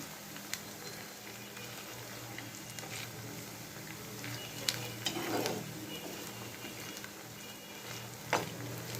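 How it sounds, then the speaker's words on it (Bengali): Onions frying in a pan for beresta give a soft, continuous crackling sizzle, with a few sharp clicks and a brief scrape of stirring partway through. "এখন নাড়তে থাকবো এখন আর নাড়া বন্ধ করব না"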